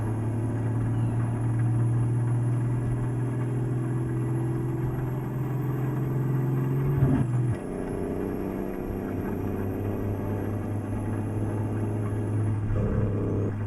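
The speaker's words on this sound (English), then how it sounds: "It's called the JCS Amateur Engine Sounds and Amateur Internal Sounds." Steady truck engine drone in Euro Truck Simulator 2 with the JCS amateur engine sound pack, a continuous low rumble that briefly drops and shifts around the midpoint before resuming, with a short dip near the end.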